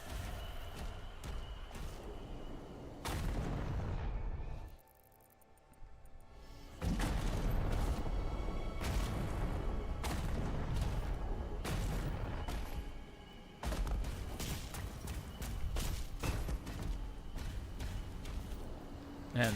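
Heavy cannon fire from a watchtower in DOOM: The Dark Ages booms repeatedly in loud, dense bursts, broken by a short quiet gap midway, with game sounds layered around the blasts.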